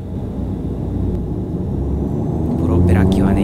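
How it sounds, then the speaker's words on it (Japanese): A propeller airliner takes off from Itami Airport, its engine roar building into a loud, steady rumble that swells toward the end, with a voice speaking over it. "プロペラ機はね、やはり音がすごいですね。"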